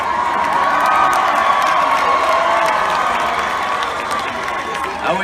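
A large concert crowd at a Septemberfest set in Louisa, Kentucky cheers, whoops and applauds in a loud, steady roar that keeps up without a break throughout.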